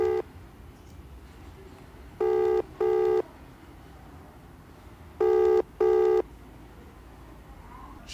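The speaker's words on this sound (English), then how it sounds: "So I'm calling again to find out if she's going to pick." An outgoing phone call goes unanswered: two pairs of loud electronic ringback tones sound several seconds apart over a low background hiss, with no one speaking.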